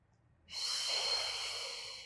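One long, breathy exhale pushed out through the mouth during a beginner Pilates workout, starting suddenly after a quiet moment and holding steady for about a second and a half, close and alone.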